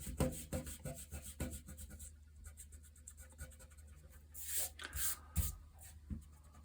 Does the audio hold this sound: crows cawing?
no